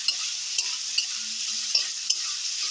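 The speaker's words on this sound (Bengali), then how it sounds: "আলুটাও একটু ভাজা ভাজা হয়ে গিয়ে এরপর দেবো মুড়ি" Boiled potato pieces frying in a pan for fried puffed rice, a steady close sizzle with a few sharp clicks of stirring, no voices.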